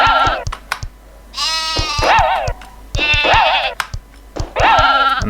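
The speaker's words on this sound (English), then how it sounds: "There's your sheep." Sheep bleating in the 3D platformer game Croc, three loud, close, wavering bleats separated by pauses, with sharp clicking game or button sounds between them.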